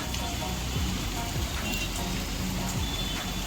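Steady rain patters densely and without a break, with a faint low hum running beneath it.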